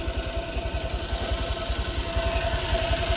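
A motorcycle engine idles while warming up, a close, steady low thumping pulse with an even rhythm and a faint whine above it.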